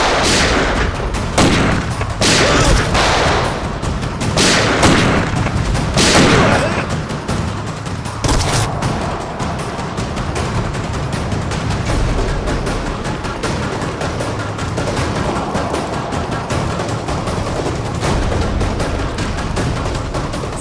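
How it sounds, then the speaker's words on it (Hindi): Loud bursts of gunfire open a CID crime drama scene, several sharp cracks clustered near the start. They give way to a dense, sustained rumble and clatter of shooting that carries on to the end. "तो गोलियां चल रही हैं।"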